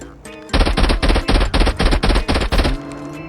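Loud SMG gunfire from Call of Duty Mobile, set to burst-fire mode, sounding as a rapid run of about eight close, punchy shots in quick clusters, ending abruptly with a short tail.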